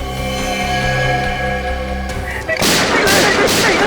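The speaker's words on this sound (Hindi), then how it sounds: "बस 4 गोलियां दाएं पैर में और 4 गोलियां बाएं पैर में ठोक दो" Loud gunfire breaks out near the end of a tense scene in the Hindi crime drama CID, a burst of sharp shots ringing over a low, steady background hum.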